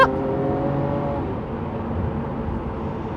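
A Lamborghini Aventador Ultimae engine revs hard toward its 8,700 RPM rev limiter, a loud, steady, close-up mechanical roar with a sustained tone and no voices.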